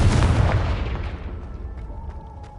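A Confringo spell detonates in Hogwarts Legacy: a loud, deep blast that rumbles and fades over about two seconds, leaving a few faint ticks.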